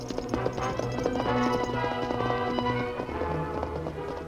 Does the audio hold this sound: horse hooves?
yes